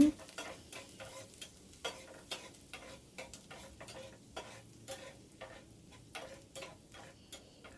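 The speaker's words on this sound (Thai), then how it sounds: "ตั้งกระทะใส่น้ำมันเอากระเทียมลงไปค่ะ เจียวกระเทียมให้เหลืองหอม" Garlic frying in oil in a pan for a Thai stir-fry, heard as a faint, steady crackle and sizzle with irregular ticking pops and occasional stirring scrapes, with no voices.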